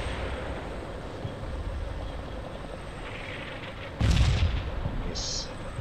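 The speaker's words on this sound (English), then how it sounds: "Plus we get some extra bonus artillery landing." Artillery shells landing in the wargame Combat Mission Cold War, a dull rumble of impacts over steady battle ambience, with one heavier close blast standing out near the end.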